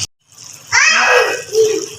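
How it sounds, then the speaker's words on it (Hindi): Water poured into a pot of boiled split lentils (daal mash) as a home cooking step, a close rushing splash rising sharply and running steadily for over a second, then a softer second gush. "ये पानी दाल दे नाल ही पा रहे सा।"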